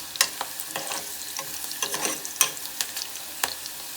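Sliced onions and green chillies frying in a hot pan for egg biryani, a soft continuous sizzle punctuated by irregular scrapes and stirs of the spatula, close and fairly quiet with no talking.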